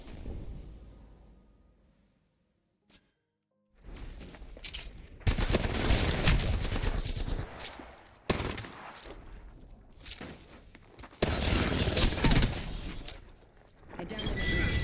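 Gunfire in Apex Legends, rapid automatic bursts in several loud clusters separated by brief quieter gaps, close and sharp, with some voice underneath.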